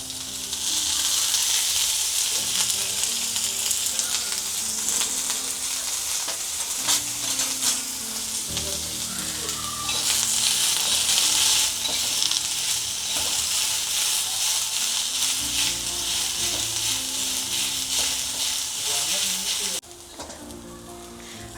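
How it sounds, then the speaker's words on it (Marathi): Sliced onions fry in hot oil for a katla fish curry, giving a steady, loud, close sizzle that keeps going almost without a break and drops off sharply near the end. "कांदा टाकते आहे मी, कांदा भाजायला तेल टाकते"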